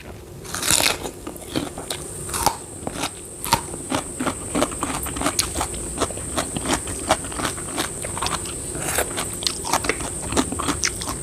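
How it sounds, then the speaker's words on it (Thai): Fresh cassava leaves being bitten and chewed up close, with a steady run of crisp, wet crunches and snaps repeating for several seconds and no talking. "ไปเห็นใบมันสด ก็เลยจะกินใบมันด้วยนะคะ"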